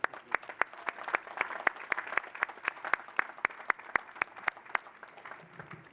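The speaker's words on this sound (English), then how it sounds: "Another round of applause for Dr. Lewis." Commencement audience gives a round of applause for Dr. Lewis, a lighter scattering of claps with individual hands standing out, moderately close and continuous, no talk over it.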